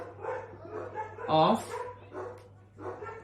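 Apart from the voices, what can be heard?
dogs barking outside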